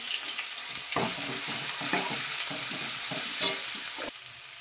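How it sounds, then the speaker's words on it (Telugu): Onions fry in a pan with curry leaves, giving a loud, constant sizzle over a rhythmic series of stirring scrapes that stop abruptly near the end. "అల్లిగడ్డ వేసుకొని కలుపుకోవాలి."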